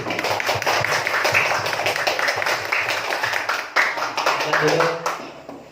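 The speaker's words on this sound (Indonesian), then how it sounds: "Beri aplaus dulu." Classroom applause for group B's poster on the ten angels and their duties, a brisk patter of clapping hands that goes on for several seconds while voices talk over it, then fades out.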